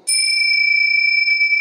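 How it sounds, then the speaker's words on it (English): Yoga chimes struck once, giving a bright metallic ring with a sharp attack and a long steady sustain that hangs clearly in a quiet yoga space. "I would call everybody back together by using my yoga chimes"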